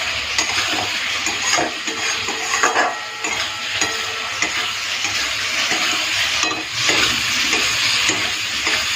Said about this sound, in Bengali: তো মশলার সাথে আলুটাকে খুব ভালো মতো কষে দিয়েছে